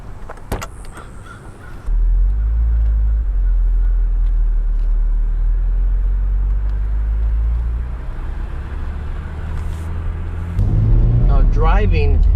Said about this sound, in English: Now driving the Porsche 944, very nimble and responsive car with a torquey 4-cylinder.